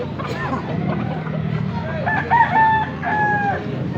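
A Bulstag rooster, a cross-bred fowl said to have ten toes, crows in one long wavering call partway through, under nearby voices and farmyard background noise.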